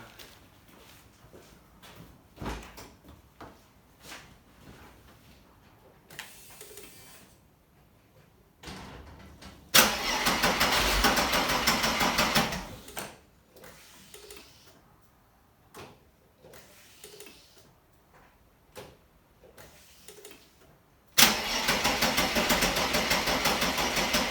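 A Mercedes 124 coupe with a 3-litre petrol engine, left standing for ten years, fires up in two loud bursts of running engine separated by quieter clunks and handling noises, close by with no talk.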